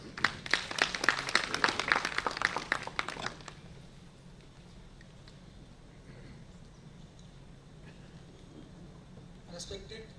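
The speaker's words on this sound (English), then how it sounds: "Please welcome sir with a round of applause." Round of applause from an audience welcoming a speaker at an institutional event, a brief burst of clapping that fades after a few seconds, followed by a quiet room with faint voices.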